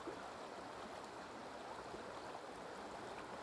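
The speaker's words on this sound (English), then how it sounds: "This creek is flowing." A creek swollen after several days of rain flows steadily, a continuous close rushing and babbling of water with no pauses or voices.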